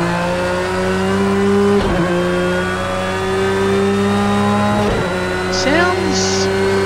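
A Porsche race car engine in Project Cars 2 holds a loud, sustained rev, with a couple of sharp gear-change dips and a brief squeal near the end, continuous and close throughout.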